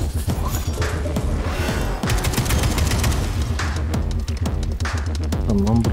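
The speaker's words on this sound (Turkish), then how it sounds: "Oğlum silah gerçekten güzel ya." Loud, close gunfire from a gun in Atomic Heart hammers out in rapid repeated bursts, with rattling volleys and heavy impacts packed tightly together.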